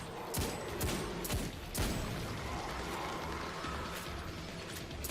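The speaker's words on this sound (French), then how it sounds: "Par contre, il y a la mitrailleuse allemande." German machine gun firing in the video game Destiny 2, rapid mechanical bursts of shots with clattering, ratchet-like texture at moderate volume, several sharp volleys early then a steadier rattling stretch.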